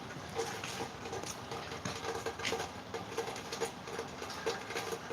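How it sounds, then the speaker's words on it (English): Hard rain pours down steadily near a train station, a dense, even patter that fills the whole stretch without pause or voices. "Definitely raining a lot harder though."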